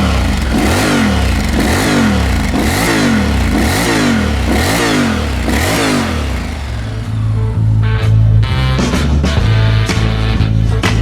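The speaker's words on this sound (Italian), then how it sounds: "Puoi dargli due sgasate già anche se è freddo?" A cold Honda X-ADV scooter engine is blipped through about seven quick, loud revs in a steady rhythm, then drops back to a rough, clattering idle with a few sharp mechanical taps.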